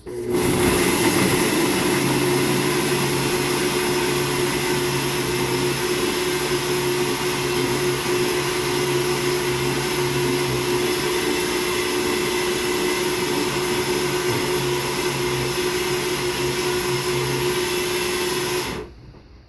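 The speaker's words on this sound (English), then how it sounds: "And so now I'm just going to blend it and keep my fingers crossed." A blender grinds almonds into almond flour with a loud, steady, high-pitched whir that runs unbroken for nearly twenty seconds, then stops abruptly.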